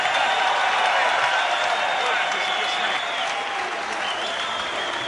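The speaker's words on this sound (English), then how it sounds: "Ladies and gentlemn, please, a big round of applause." A large crowd applauds at a British and Commonwealth super middleweight boxing match in London, dense sustained clapping with some cheering and crowd noise mixed in, steady and fairly loud throughout.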